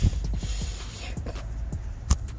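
A car jack lifts a car higher so a smaller spare tire can be fitted. It makes a series of close mechanical creaks and ratcheting clicks in an uneven rhythm, ending with a sharper metallic knock.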